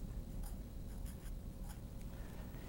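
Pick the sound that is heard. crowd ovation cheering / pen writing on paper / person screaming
pen writing on paper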